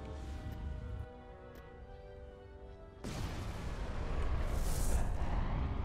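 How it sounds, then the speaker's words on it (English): Bombing in Star Wars Empire at War: Forces of Corruption, a steady rumbling barrage with faint tonal hum early on, then a sudden broadband roar of explosions that swells louder toward the end. "You're being bombed to hell."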